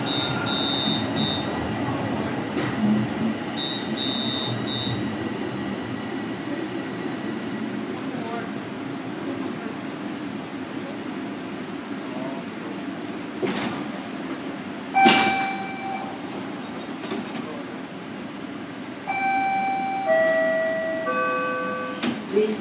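A Toronto Rocket subway train on the Sheppard Line pulls into a station, with a steady rumble, chiming tones, a sharp clunk as the sliding doors open and automated announcements over the noise.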